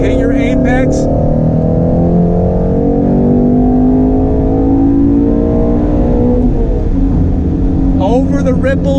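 A 2019 Ford Shelby GT350 accelerates hard on a race track, its engine note loud, close and rising through the gears before dropping under braking, with a brief burst of tire or mechanical whine at the start and end.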